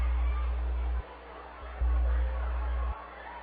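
Crowd murmur at a minor league baseball game, the Bakersfield Blaze at the Rancho Cucamonga Quakes on a Wednesday evening, a steady distant babble of many voices behind low hum, with the level shifting in steps.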